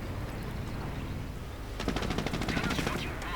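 Gunfire in a WWII strategy video game: a steady battlefield din gives way to rapid bursts of automatic weapon fire midway through, loud and dense, with no speech over it.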